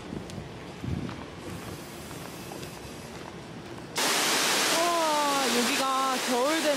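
Shirahige Falls in Hokkaido gives a loud, steady broadband rush of falling water that sets in abruptly partway through, with a voice speaking briefly over the roar.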